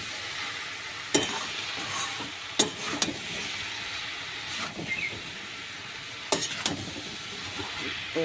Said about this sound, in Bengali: এই যে ঢাকাটা খুললাম তুলে একটু নাড়িয়ে দিই নাহলে আবার তলায় ধরে যেতে পারে